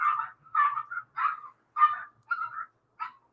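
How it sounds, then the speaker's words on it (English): Dogs bark in the neighbourhood, with six separate short barks coming at irregular intervals over a few seconds, fairly clear and moderately close against a quiet background. "Lots of dogs around here."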